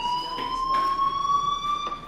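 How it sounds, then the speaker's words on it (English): Fire alarm in the video game Life is Strange, a continuous high electronic tone held steady and moderately loud, with faint footsteps or movement beneath it and no talk. "do you hear that fire alarm?"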